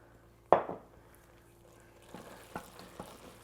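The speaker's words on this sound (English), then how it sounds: "Just keep stirring it in" Parmesan being stirred into mac and cheese in an Instant Pot, a sharp clunk of a utensil against the pot followed by a few soft, sticky scraping stirs, close and quiet with no talk.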